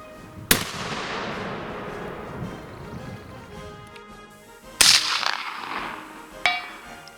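An 1879-era Mk I Martini-Henry rifle fired outdoors during individual musketry practice: one sharp, loud report near the start with a long decaying echo, then a second crack and a fainter third, with no talk.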